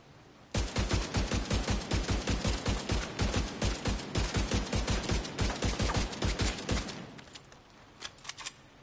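A rifle in The Division 2 fires continuously in a rapid, loud burst of evenly spaced shots for about six seconds, then stops, followed by a few faint clicks.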